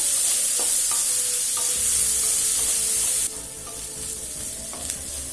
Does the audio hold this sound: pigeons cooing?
no